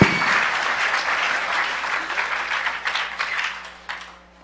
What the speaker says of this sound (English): Give him a huge round of applause right now